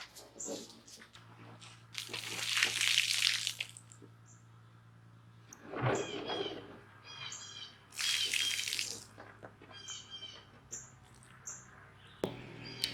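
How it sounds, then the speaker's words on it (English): Water poured and splashed over potatoes while rinsing them outdoors at a rocket-stove cooking site, arriving in a few bursts of splashing separated by quieter pauses. "Use the rest of our water to rinse it, and get to cooking."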